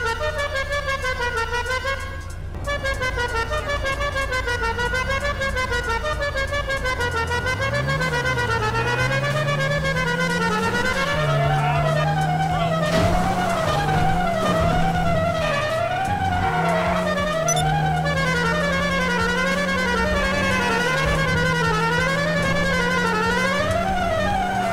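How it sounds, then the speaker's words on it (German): A classic car horn from the video game GTA 5 honks out Flight of the Bumblebee as a continuous, rapid, rising-and-falling melody. The loud, steady tones hold without a break for the whole stretch, apart from one brief dip near the start. "Dann die klassische Hupe fortlaufend 1. Das ist der Hummelflug von Rimski-Korsakow."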